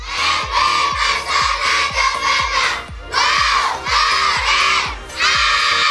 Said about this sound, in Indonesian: mereka selalu memberikan yel-yel supaya semangat dan supaya mendapatkan juara satu